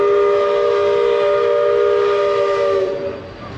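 A loud, sustained steam train whistle at Magic Kingdom blows steadily with a chord-like tone, then cuts off and fades near the end.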